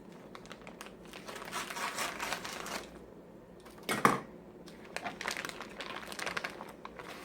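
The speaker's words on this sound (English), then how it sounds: "Here I have a package of defrosted sweet Italian sausage. There's 7 sausage legs in here. So I'm gonna cut that open." A package of defrosted sweet Italian sausage being cut open, with close crinkling plastic and rustling in bursts and one sharp snap midway.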